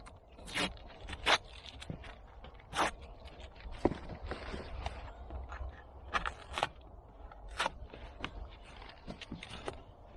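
Tape being peeled off a thick cardboard box, heard as a series of sharp, crackling rips and scrapes in short bursts, close and fairly quiet.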